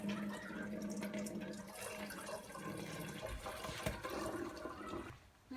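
Boiled cabbage dye water pours from a pot through a strainer into a bowl in a steady splashing trickle, close and continuous for several seconds before tapering off.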